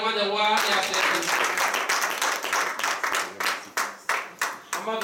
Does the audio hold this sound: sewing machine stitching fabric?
no